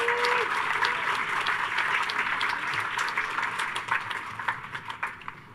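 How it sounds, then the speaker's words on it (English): A commencement audience breaks into sustained applause, a dense wash of many hands clapping that gradually thins out into scattered claps near the end. "Could we have a round of applause for them?"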